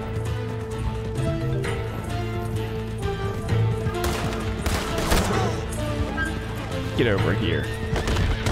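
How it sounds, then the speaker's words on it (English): Gunfire in the video game Red Dead Online, rapid volleys of shots crackling among horse whinnies and hoofbeats, with someone talking over the action. "he's getting shot all over the place"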